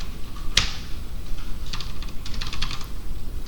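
Fingers type on a computer keyboard to write a post, opening with one sharp clack and then a quick run of close key taps with short pauses between them.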